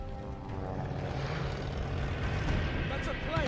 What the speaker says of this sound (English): That's a plane!